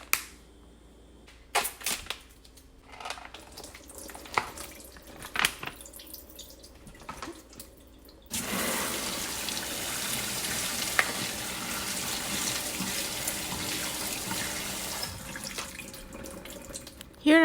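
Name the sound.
tap water rinsing Costco low carb keto noodles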